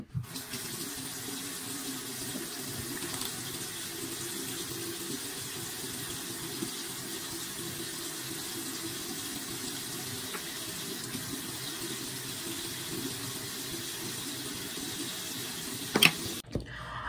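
A bathroom tap runs steadily into a sink for the whole stretch during face washing, a continuous, fairly quiet splashing hiss that cuts off at the end.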